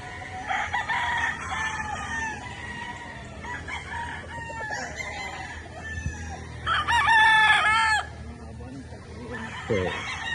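Gamefowl roosters in a breeding pen on a gamefarm crow several times at moderate distance, with drawn-out cock-a-doodle-doo calls between quieter clucking and soft farm background noise.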